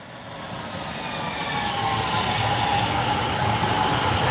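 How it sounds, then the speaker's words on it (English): Metro train rolling past a residential area heading toward Los Angeles, a steady broadband rumble and rail roar that builds slightly and holds loud and close throughout, with no talking. "Let's let this train go by real fast."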